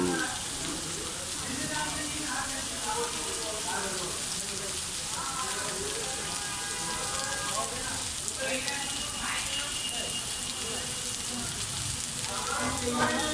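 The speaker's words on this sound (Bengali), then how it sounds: "আমি দেখতে পাচ্ছি" Rain falls outdoors at Dhaka University in a steady, even hiss that holds for the whole stretch, while voices murmur beneath and around it.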